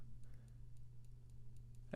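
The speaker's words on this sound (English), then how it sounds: "if you press it, you can hear it clicking" A Tactile Turn Anso pen's milled clip clicks when pressed, giving a quick series of faint, evenly spaced light ticks over a low hum, ending in a louder handling noise.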